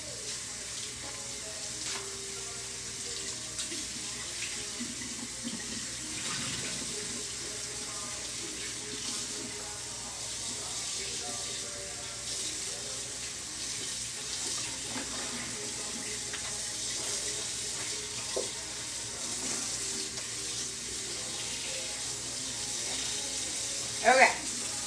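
Tap water runs steadily over a tie-dye shirt being rinsed in a sink, a continuous hissing splash with small shifts as the fabric is moved, and a brief louder splash near the end.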